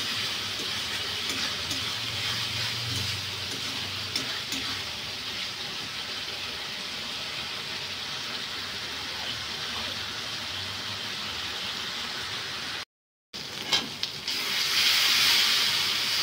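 A masala in a pan with a little added water makes a continuous steamy hiss and sizzle, fairly steady with faint low bubbling, briefly cutting out near the end before returning as a brighter, louder hiss.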